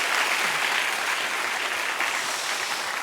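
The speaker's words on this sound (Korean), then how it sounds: "우리 여호와 하나님께 찬양 박수를 드립시다." Congregation at a large church gathering gives sustained, dense applause of praise, loud and even throughout with no voices on top.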